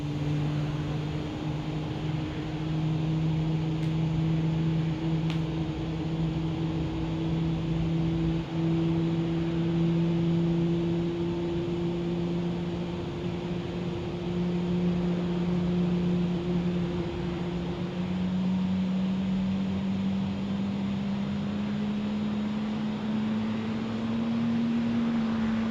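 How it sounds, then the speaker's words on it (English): Airbus A320neo engine spooling up during startup in Microsoft Flight Simulator, a steady rising turbine whine over a constant low rumble, sustained and even throughout with no talking. "let's enjoy engine startup"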